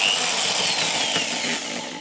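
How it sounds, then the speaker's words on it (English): A power drill with a 12mm bit boring into a plastic project box, a steady loud whine held close for the whole stretch. "I need a 12mm drill bit for this"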